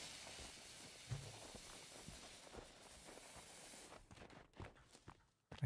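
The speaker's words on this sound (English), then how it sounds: "I hear footsteps." Footsteps crunch and thud in the forest survival game Sons of the Forest, a steady walking rhythm at moderate distance over ambient hiss, breaking into a few louder close steps near the end.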